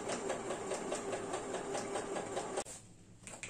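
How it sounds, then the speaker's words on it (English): A Pfaff Quilt Ambition 630 sewing machine stitches with a steady, fast mechanical whir and rhythmic needle ticking for about two and a half seconds. It then stops abruptly, leaving a quiet room with a few faint clicks. "I'm gonna just do a little bit of sewing so you can hear it."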